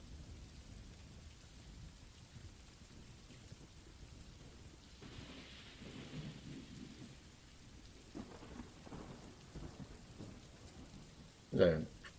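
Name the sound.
big thunderstorm with rain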